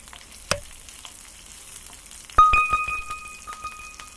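Green chillies, cinnamon, mace and cardamom sizzle steadily in a pan for kuska, with a sharp metal clank early on and a later spatula strike that leaves a ringing metallic tone.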